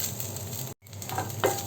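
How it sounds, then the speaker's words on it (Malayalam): Cardamom and chopped almonds roast in a pan for sweet kozhukatta, making a faint, short sizzle with light stirring. There is a brief gap partway through. "ഇനി ഇതൊന്ന് നമുക്ക് ചെറുതായിട്ടൊന്ന് വറുത്തെടുക്കണം."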